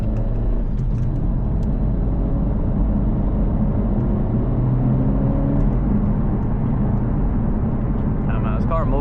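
Interior of an 11th-generation Honda Civic Si driving at night, with a steady low engine and road rumble throughout as someone talks over it.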